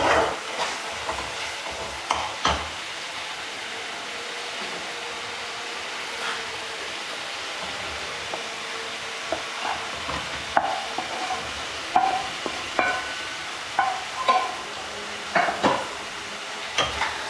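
Fried paneer cubes stirred and fried in a yogurt masala for paneer biryani, with a continuous sizzle under repeated scraping spoon strokes that grow more frequent and sharper toward the end, close and clear.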